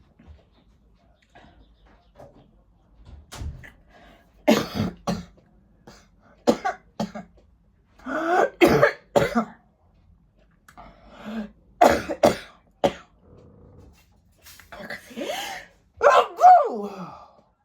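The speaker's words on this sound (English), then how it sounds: "I'm going to sneeze." Several bursts of sneezing, coughing and gasping breaths scattered across a quiet room, close to the listener, with short pauses between them.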